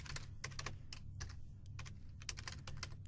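Rapid bursts of keystrokes on a computer keyboard, clustered clicks tapping out text in quick runs with brief pauses, close and fairly quiet over a steady low hum.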